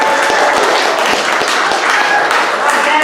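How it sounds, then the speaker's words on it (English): Audience at a morning talk applauds steadily and fairly loudly, a dense wash of many hands clapping throughout, with a hint of crowd murmur underneath. "Everybody welcome Dan with a round of applause."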